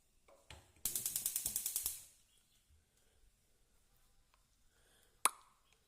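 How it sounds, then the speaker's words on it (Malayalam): A gas stove igniter snaps in a quick run of about a dozen sharp clicks while a burner is lit to cook fish peera. A single loud pop follows after a quiet pause. "അപ്പം നമുക്ക് അടുപ്പ് കത്തിക്കാം"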